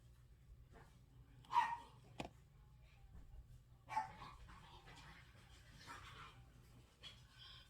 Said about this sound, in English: Those dogs are in there playing up a storm. They sound like they're killing each other,